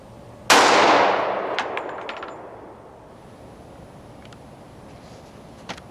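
A single loud .45 ACP Zombie Max gunshot fired from about ten feet into a 20-inch, 50-pound SIM-TEST ballistic media block, a sharp crack with a long decaying ring-out, followed by quiet with a faint click near the end.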